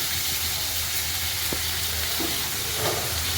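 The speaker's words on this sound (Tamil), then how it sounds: "தக்காளி போட்டோன்னே உப்பு கொஞ்சம் போட்டோன்னா அது ஈஸியாக வதங்கிடும்." Tomatoes with salt sauté in a pan for egg curry, giving a steady close sizzle with occasional stirring scrapes and a low background hum throughout.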